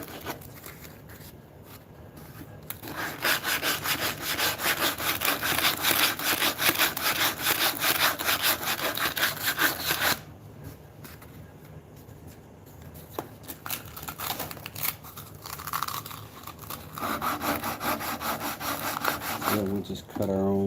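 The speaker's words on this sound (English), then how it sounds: "So we'll just cut our own bevel with that sandpaper." Sandpaper rubs rhythmically against a wooden mallet to cut a bevel, with fast, close, scratchy back-and-forth strokes in long runs and a brief pause midway.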